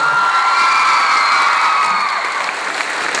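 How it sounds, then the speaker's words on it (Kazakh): A concert audience at a show claps and cheers loudly, with high whoops and shouts blending into a continuous roar that holds steady throughout. "Қол шапалақтар."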